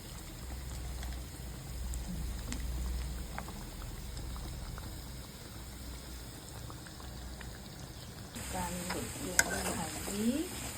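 Potatoes bubble and sizzle in a pan of mutton gravy, a faint steady simmer with occasional stirring scrapes and clinks, growing busier near the end, with some voice faintly in the background.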